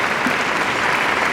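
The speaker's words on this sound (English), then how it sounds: "Big round of applause." Steady audience applause at a wellness panel discussion, dense and continuous clapping from a full room with no pauses.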